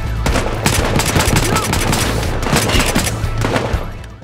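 Heavy gunfire in Battlefield Hardline, a loud, dense fusillade of rapid automatic shots and booms that runs unbroken for about four seconds, close and overpowering, with no talk over it.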